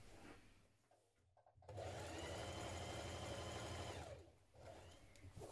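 A sewing machine stitches a seam on denim jeans, a steady close whirring run of about two and a half seconds between quieter pauses and softer mechanical handling.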